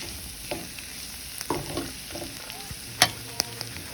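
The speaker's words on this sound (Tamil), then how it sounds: "பாருங்கள், நல்லா ஃப்ரை ஆகிடுச்சு பாவக்காய்" Bitter gourd fries in a pan, a steady close sizzle with occasional soft scrapes and stirring knocks of the spoon, and no voices.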